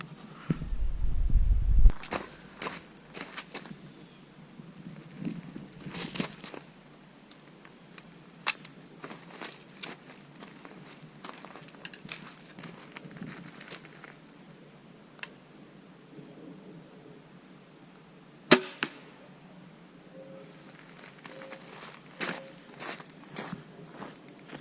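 A Horton Yukon SL crossbow shot at a 20-yard target outdoors in West Virginia, heard as a few sharp isolated snaps and thwacks spread apart, with quiet handling noise and light rustling in between.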